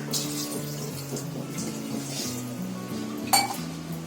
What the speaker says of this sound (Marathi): आता याच्यामध्ये आहे ना थोडं पाणी टाकायचा